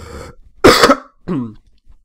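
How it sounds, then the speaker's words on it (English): A person clears the throat and coughs a few times in quick succession, close and loud, short harsh bursts separated by brief pauses. "God, I had a coughing fit."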